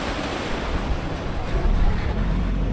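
Strong high-tide waves crash and wash onto Boracay's White Beach in a continuous loud roar, with wind buffeting the microphone and the surge swelling slightly toward the end.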